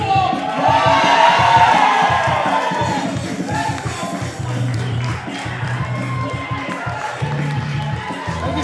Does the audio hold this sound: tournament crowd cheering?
yes